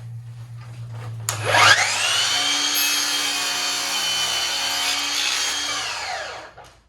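A Milwaukee M18 Fuel cordless miter saw spins up and cuts through a wood board at a 45-degree angle, a loud, steady whining cut lasting about five seconds before the blade winds down, with no talk.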